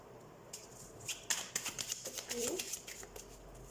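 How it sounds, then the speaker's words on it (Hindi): Tarot cards are shuffled by hand in short riffling bursts and soft flicks, fairly faint and close, with light background noise and no clear talking over them. "तो सबसे पहले हम कार्ड शफल कर लेते हैं।"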